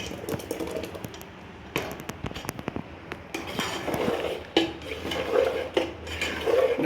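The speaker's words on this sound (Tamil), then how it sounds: "இந்த சாதத்தோடு சேர்த்து நம்ம அடி பிடிக்காமல் நல்லா கிண்டணுங்க" A spoon scrapes and knocks against a pot while rice and flour are stirred together for koozh, irregular clinks and scrapes at close range, fairly quiet, with no voices.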